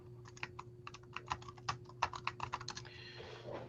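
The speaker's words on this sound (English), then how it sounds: "Sorry for my typing here. It was kind of loud." Quick bursts of typing on a computer keyboard, a run of close, crisp key clicks with uneven rhythm over a steady low hum, trailing into a softer rustle at the end.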